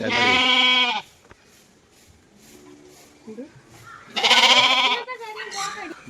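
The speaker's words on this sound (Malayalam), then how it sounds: "ഈ ആടിന്റെ പേരെന്താണെന്ന് എനിക്കറിയത്തില്ല" A goat at a children's park and exotic farm in Thiruvalla bleats loudly twice, one long quavering call at the start and another after a pause, with faint background sounds between.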